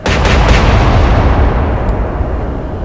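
A warship's naval gun fires in the Atlantic Fleet game, Royal Navy against Kriegsmarine: one very loud, close blast at the start that rolls off into a long, heavy rumble.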